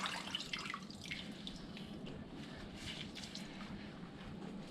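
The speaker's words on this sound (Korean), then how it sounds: "뭐 좀 오염이 됐다 싶으면은 다시 한번 빨아 가지고 물기를 꼭 짜준 다음에" A wet washcloth is wrung out during a no-shower campsite wash using a single bottle of water. Water trickles and drips faintly and steadily against a low background hiss.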